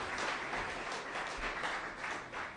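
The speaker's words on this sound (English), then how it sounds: "Can we give Dan a round of applause?" A round of applause for Dan at a fall retreat, many hands clapping steadily together in a room, a dense sustained burst with no talking over it.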